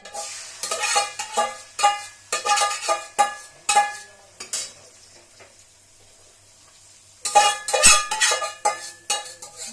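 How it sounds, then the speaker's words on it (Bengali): Beaten egg goes into a hot oiled iron kadai and is stirred, a sequence of close, bright scraping and clinking strokes in uneven bursts with a quiet pause before a final flurry. "আমি তেলটা একটু কড়াইয়ের গায়েতে ভালো করে লাগিয়ে নিলাম, দিয়ে এই ফ্যাটানো ডিমটা কড়াইয়ের মধ্যে ঢেলে দিচ্ছি।"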